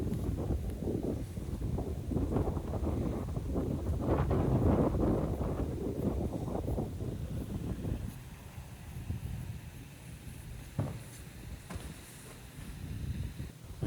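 Steady wind roars across a microphone on an outdoor disc golf course, a loud continuous rumbling buffet that eases somewhat toward the end, with no talking.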